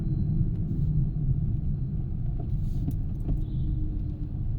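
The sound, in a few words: manual car driving in low gear in city traffic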